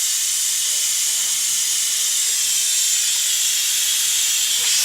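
Compressed air hissing steadily out of a tire being deflated after its bead was re-seated, a loud, close, unbroken hiss lasting several seconds.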